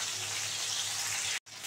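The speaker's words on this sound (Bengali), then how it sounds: "মাছগুলো ভালো করে লাল করে ভেজে নিয়েছি, দেখো একদম কড়কড় করছে" Ban fish, an eel, frying in hot oil in a pan, a steady close crackling sizzle that runs continuously with one brief dropout near the end, with no talking.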